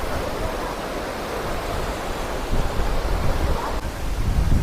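The Gandahati waterfall gives a steady, broad rushing roar of falling water, heard close and loud with some wind buffeting and no speech.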